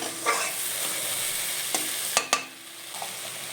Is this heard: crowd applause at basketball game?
no